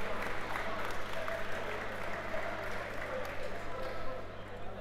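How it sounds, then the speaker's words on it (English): DMU fans clapping a departing goalkeeper at a men's futsal match, a steady moderate patter of applause echoing in an indoor hall, sustained under a low hum with no break. "he's getting clapped off here by the DMU fans, showing their appreciation"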